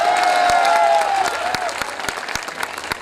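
Audience clapping at a Hindi poetry recital, loud at first and thinning into scattered individual claps, with a sustained tonal hum fading out early on.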